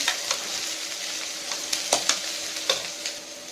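Onion, green chili and crushed garlic sautéing in a pan for potato kurma, a continuous hiss of frying with light, irregular stirring taps and scrapes, close and fairly quiet, no voices.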